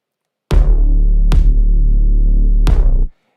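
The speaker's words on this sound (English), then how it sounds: "So it sounds like this with no side chain." A pop beat's kick drum and deep bass play together with no sidechain compression: three hard kick hits over a loud, continuous low bass drone that stays full between hits and cuts off at the end.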